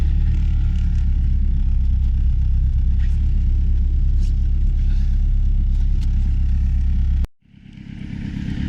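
A Peugeot 306 turbo diesel engine idles with a loud, steady low rumble and faint clatter close by, then cuts off abruptly near the end before a softer rumble returns.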